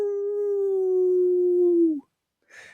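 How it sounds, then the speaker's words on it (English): One long, low dog howl holds steady and loud for about two seconds, sliding slightly downward before breaking off, followed by a short silence and a faint breathy sound. "It was a low howl"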